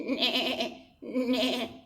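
A human voice imitates a goat bleating in two drawn-out, wavering cries, each about a second long with a brief gap between them, close and clear.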